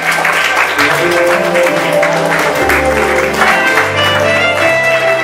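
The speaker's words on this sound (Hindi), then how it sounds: "can we please have a huge round of applause for our director, Mr. Bhutodia" Audience applause for the director of a stage performance of a youth drama production: steady, dense clapping from a crowd, running continuously under loud music for the whole stretch.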